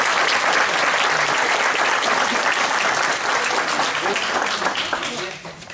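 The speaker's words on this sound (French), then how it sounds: "Allez, on peut l'applaudir." Guests at a baptism ceremony give loud, dense applause that holds steady for several seconds before fading out toward the end.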